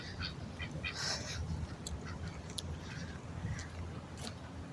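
Ducks quack repeatedly in short, scattered bursts beside a riverside fence, fairly faint against a soft outdoor background hum.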